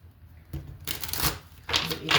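Tarot cards from an Arcanum deck are shuffled in a few quick riffling bursts, close and fairly crisp, with short pauses between them.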